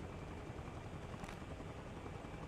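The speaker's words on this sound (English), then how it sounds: "the sound of the helicopter cut out" In a military simulation video game, a helicopter gives off a steady, faint, broadband rotor drone that continues unbroken under nothing else.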